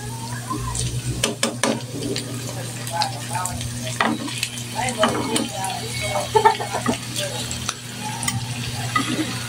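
Chicken sizzles and crackles in a hot frying pan with scattered clinks and stirring scrapes, a steady frying hiss underneath.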